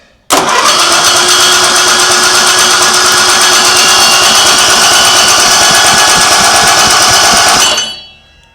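With the spark plug removed, an engine cranks over continuously, a loud, steady whirring and buzzing that starts abruptly and runs for several seconds before winding down.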